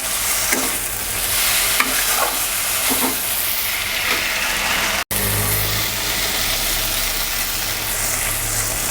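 Spices, tomato, potatoes and green chillies fry together in a pan, with a loud continuous sizzle and stirring scrapes, a brief cut midway, then steady frying with a low rumbling hum.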